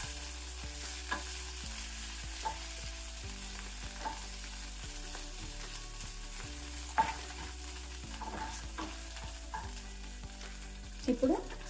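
Curry leaves crackle and sizzle in a hot pan with the heat switched off, a faint steady frying hiss punctuated by small pops and occasional clinks, with no voices.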